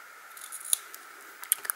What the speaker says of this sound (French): Et je vais donc couper